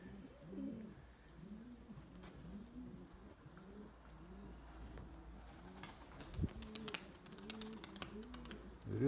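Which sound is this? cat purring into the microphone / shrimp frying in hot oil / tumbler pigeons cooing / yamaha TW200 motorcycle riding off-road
tumbler pigeons cooing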